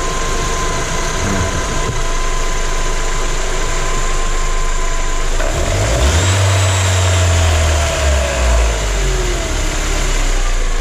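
A 1999 Mercedes SLK 230 with a supercharger clutch that fails to engage idles loudly up close, then revs up and settles back down, its low engine note rising and falling.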